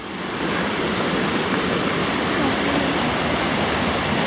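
Rushing water from a waterfall in old gold-mining country, a steady broadband roar that fills the whole clip without a break, close and loud, with no voices over it.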